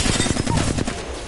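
Rapid automatic gunfire from a slower-firing weapon in Apex Legends, a steady string of close, loud shots running for over a second without talk.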